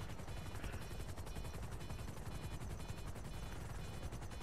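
A helicopter in Grand Theft Auto fills the scene with a dense, loud, steady rotor chop and engine roar that holds unbroken throughout, with no voices.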